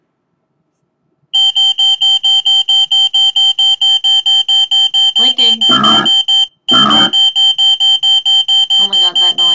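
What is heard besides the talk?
fire-alarm-like noise from Mindwave EEG-controlled video game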